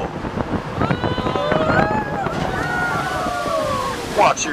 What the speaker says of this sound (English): we are approaching our first splashdown of the day